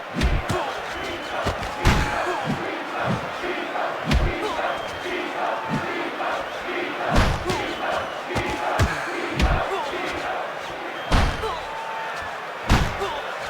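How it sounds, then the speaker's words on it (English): Punches land in a Pacquiao vs Corrales lightweight boxing video game as sharp, heavy thuds at irregular intervals, with a steady arena crowd roar underneath throughout. "A blow right in the face."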